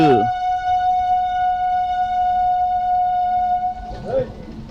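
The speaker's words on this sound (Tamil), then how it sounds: "இந்தியன் ரயில்வேஸ் டபுள் என்ஜின் போகுதுங்க." A sustained loud horn from an Indian Railways double-engine train blares steadily for several seconds, then stops as rumbling and a brief voice follow.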